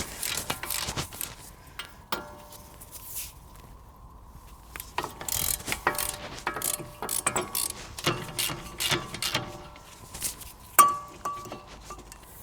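Ratchet working loose two 18mm bolts on a car's brake carrier during a disc and pad change, giving quiet intermittent clicks and metallic clinks scattered through, with one sharper clank near the end.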